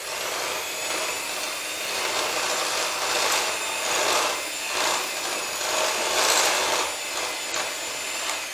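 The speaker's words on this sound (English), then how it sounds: "we're going to mix that. We're going to mix it before we put the chocolate chips in. So it's going to give it a little whisk" Chocolate muffin batter is whisked in a bowl before the chocolate chips go in, a loud, scraping, rhythmic swishing with repeated strokes that swell and fade close by.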